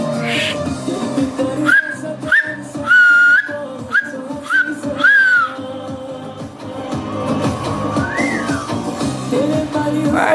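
Someone whistles a tune as a run of short, bright, rising notes in a quick sequence, then pauses before a last drawn-out note. Background murmur and faint sounds continue under the whistling.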